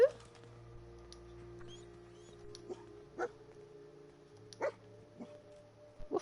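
A dog companion in the Skyler Woods survival game barks in a few short, separate yelps over a steady low game soundscape, fairly close and moderately loud.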